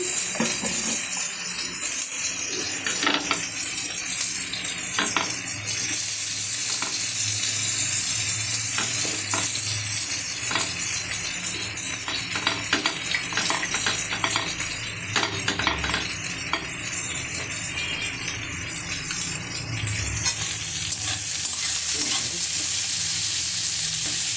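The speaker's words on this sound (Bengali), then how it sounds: "দিয়ে দিলাম এক মুঠো পেঁয়াজ, একটু আস্তে করে দিই।" A handful of onion frying in a pan, a loud, steady sizzle with repeated scraping and light clinks of the spatula against the metal as it is stirred.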